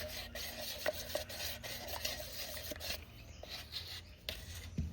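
Casting powder mixture stirred in a container, a continuous close scraping and rubbing with small clicks and taps of the stirrer against the sides, steady over several seconds with no talking.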